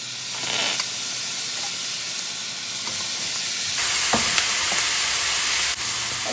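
Chicken sears in a hot pan for adobo, giving a continuous close sizzle and hiss with occasional stirring scrapes, growing slightly louder partway through.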